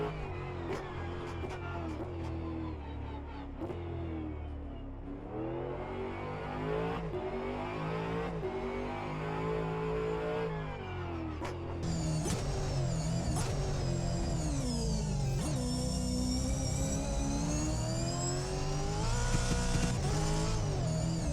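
V8 Supercar engines in the Assetto Corsa and rFactor 2 racing games howl around the Adelaide circuit, revving up and down through gear changes with occasional tire squeal, loud and continuous throughout.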